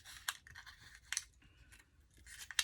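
Scissors snip through paper in a few quick, close cuts, separated by short quiet pauses.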